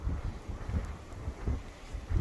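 Strong wind gusting across an open, drought-dry rural landscape on a cool day, a steady low rumble buffeting the microphone in surges throughout.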